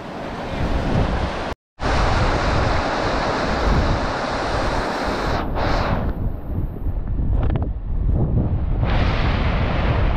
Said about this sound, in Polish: Ale woda rżnie tutaj hardkorowo, nie ustałby na tej płycie.